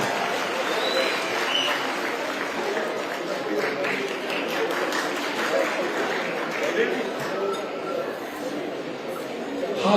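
Steady crowd applause at a live public event in Shimla with the Himachal chief minister present, broad and continuous for the full stretch, with voices and chatter mixed in underneath.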